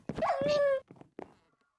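A dog in the video game Minecraft whimpers in a drawn-out, high whine, followed by a couple of shorter, softer whines that trail off.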